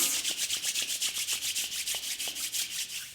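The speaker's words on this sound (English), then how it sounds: "rubbing your palms" Palms rubbing briskly together in a meditation session, a steady run of about twenty close, even swishing strokes with no talk.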